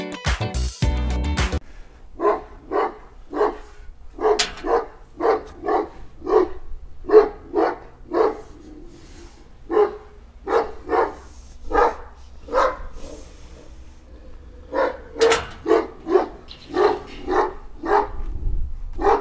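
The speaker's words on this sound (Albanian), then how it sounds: "Qen, aj qen ky." A dog barks repeatedly in steady bursts, loud and close, with short pauses between runs of barks and no talking over it.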